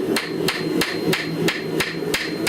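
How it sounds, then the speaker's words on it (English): A ball-peen hammer shapes a metal leaf resting on a wooden block, striking six sharp, evenly spaced taps at a steady rhythm, close and clear with no talking. "Not the peen, the ball of the hammer."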